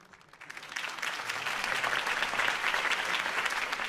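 A crowd bursts into applause after Harvey Dent's campaign speech in Batman: The Telltale Series, rising quickly and holding as a steady, dense wash of clapping.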